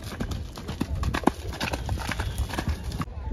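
A horse's hooves clip-clop quickly and steadily at close range on a path at the Mahabaleshwar hill station, over a busy outdoor background.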